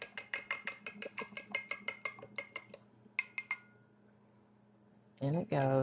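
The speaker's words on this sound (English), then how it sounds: "whisk it up a little." An egg is whisked in a bowl with a utensil, giving a quick, even run of bright clinks against the side, followed by a pause, a few more taps, and a louder clatter at the end.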